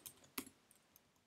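Keystrokes on a computer keyboard while filling in a web form, a few quiet scattered clicks with one sharper burst of taps near the middle.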